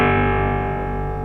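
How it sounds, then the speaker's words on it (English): Spring reverb with the feedback turned up on a Pittsburgh Modular SV-2 synthesizer rings out as a sustained, buzzy, distorted tone that decays slowly after a sharp onset, heard alone. "This is a spring reverb."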